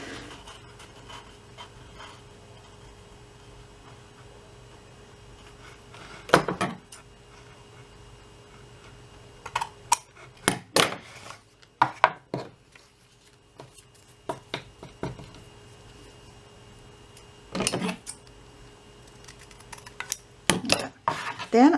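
Paper being trimmed for a handmade recipe box, heard as several short, sharp bursts of cutting and handling scattered across a quiet room, with pauses of near silence between them.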